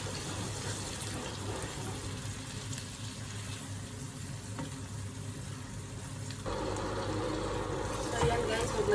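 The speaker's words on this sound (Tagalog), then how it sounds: "maglagay na tayo ng sabaw" Broth poured into a pot of potato curry, a steady liquid splashing and trickling sound that grows louder near the end, heard alongside kitchen background noise.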